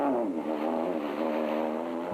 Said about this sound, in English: That Ford sounds angry.